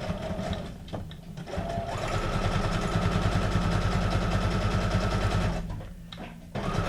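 A sewing machine stitches paper for an ephemera folio, running in a steady rapid mechanical chatter for several seconds, with brief stops and restarts at the beginning and end.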